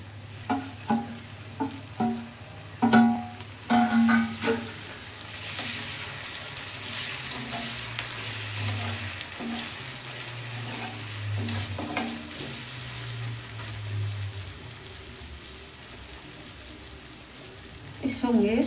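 Ginger, garlic, turmeric, Kashmiri chilli and cumin powder fry in a pan for a drumstick-leaf masoor dal, a steady sizzle broken by repeated clinking, scraping stirs near the start and sporadic ones later.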